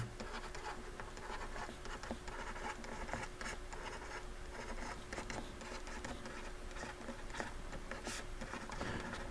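Pen or marker writing out a math solution by hand, a steady continuous scratching and tapping across the whole stretch, close and fairly quiet with no talk.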